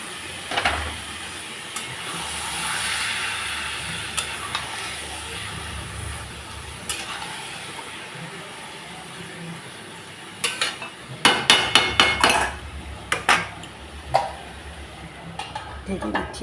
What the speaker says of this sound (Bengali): এখন দিয়ে দিচ্ছি মটর